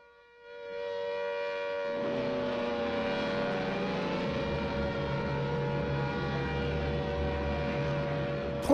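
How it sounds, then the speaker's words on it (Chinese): A wailing air-raid siren sounds alone at first, then a heavy aircraft engine roar rises beneath it and holds loud and steady, a war documentary effect of a 1937 bombing raid. "这个飞机的声音轰就来了"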